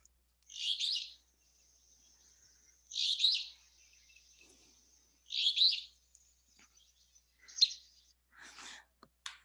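An alder flycatcher sings its buzzy two-part 'free beer' phrase three times at even intervals, fairly close and clear against a quiet background, followed by a few softer, fainter calls.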